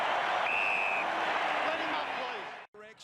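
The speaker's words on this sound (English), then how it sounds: "the Collingwood Army give it a big cheer" Collingwood supporters at an AFL football match roar in a dense, sustained crowd cheer that fills the stadium. The cheer holds loud for over two seconds, then a brief cut gives way to a commentator's voice.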